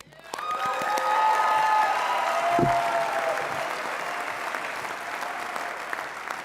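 An audience at a world convention opening general session breaks into sustained applause, a dense wash of clapping from a large crowd that rises quickly, holds for several seconds and slowly tapers, with a faint tone underneath.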